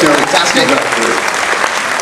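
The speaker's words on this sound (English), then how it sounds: "Give yourselves a round of applause." A fan convention audience claps loudly and continuously throughout, close and dense, with a voice speaking briefly over the applause.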